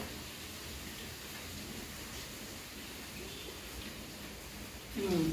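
Steady rain falls in Jaffna, making a constant hiss of drops at even loudness, with a short burst of louder noise at the end.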